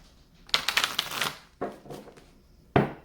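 Tarot cards being shuffled by hand, a fluttering riffle burst followed by two sharper single slaps of the deck, close and clear with no talk.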